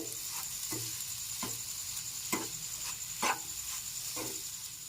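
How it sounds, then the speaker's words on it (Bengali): Mung dal laddu mixture stirred in a pan after three tablespoons of sugar go in, with regular scraping strokes about once a second over a soft continuous sizzle, close and steady with no talk. "আমি এখানে তিন টেবিল চামচ চিনি নিয়ে নিয়েছি খুব ভালো করে এটা মিশিয়ে নিচ্ছি"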